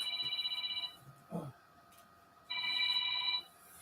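A telephone's electronic ring trills in two bursts, the first trailing off and the second starting after a pause, close and clear with a brief thump in between.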